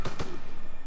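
A grenade blast in the WWII shooter game Call of Duty WW2, one sharp, loud burst followed by a second quick crack and a brief, decaying rumble.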